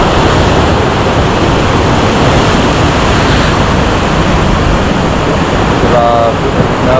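Ocean waves crash below the lighthouse campsite in Baler, Aurora, as a loud, continuous roar of surf that sounds close and may be mixed with wind buffeting the microphone.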